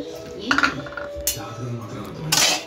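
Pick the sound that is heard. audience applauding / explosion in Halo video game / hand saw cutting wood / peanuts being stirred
peanuts being stirred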